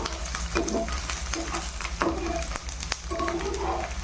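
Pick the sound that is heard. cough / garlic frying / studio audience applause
garlic frying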